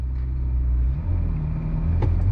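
A Ferrari GTC4 Lusso T, all-wheel drive and in first gear, pulls away from a dead stop on throttle, its deep engine rumble steady and close, with a brief brighter rise in pitch near the end.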